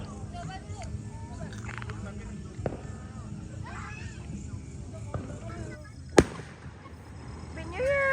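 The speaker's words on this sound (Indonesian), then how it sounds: "Ini kembang api dari villa nih." Fireworks set off from a villa near a lakeside camping ground at Bukit Gajah, Bogor, on New Year's night: one sharp, fairly close bang cuts through a steady murmur of crowd and ambient noise, with people talking.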